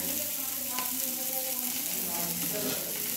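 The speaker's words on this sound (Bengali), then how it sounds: "আমার চিংড়ি মাছের মুড়ো ভাজা হচ্ছে" Continuous loud sizzling of prawn heads frying in hot oil, with a faint indistinct voice in the background.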